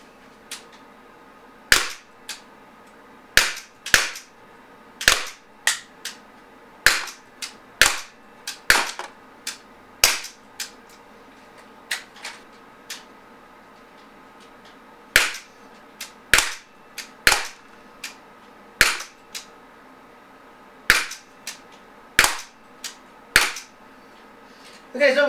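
Beretta Px4 Storm Recon 4.5mm pellet pistol firing about sixteen shots in two strings of sharp, quiet cracks, close and evenly spaced with short pauses, and nobody speaking.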